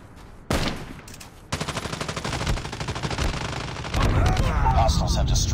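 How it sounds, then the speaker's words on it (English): A sentry gun in COD Mobile fires in a rapid, steady automatic stream after an opening shot, continuing at close range with other gunfire and game voice lines mixed in. "Friendly sentry gun deployed."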